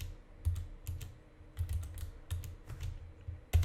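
Close, quiet keystrokes on a computer keyboard tap out a short irregular burst of typing, with a few clustered presses and brief pauses, no talking.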